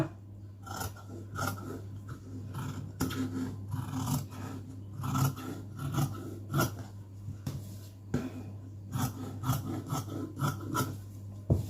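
Scissors cutting churidar fabric, a series of repeated rasping snips and rubs at a steady pace, close and fairly soft, with a constant low hum underneath and no talking.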